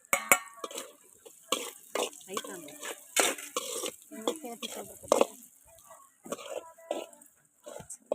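Ground masala and fenugreek fry in oil for a gooseberry pickle, giving a soft sizzle broken by irregular stirring clicks and scrapes of a spoon against the pan, close up and fairly quiet.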